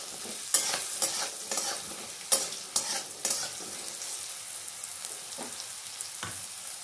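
Leafy greens with a little turmeric being stirred in a cooking pan, repeated scraping strokes of the spoon over a soft background sizzle, close and moderately quiet.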